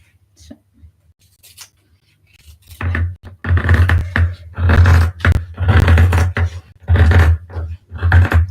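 Shears cut through fabric at a sewing table with crisp, crunchy snips close to the mic. Strokes fall at roughly one per second after a quiet start, with no talking.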